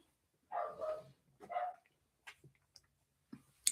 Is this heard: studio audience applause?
no